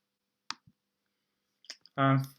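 A computer mouse clicks on a chart title in spreadsheet software: two brief, sharp clicks in a quiet room, followed by a voice starting to speak.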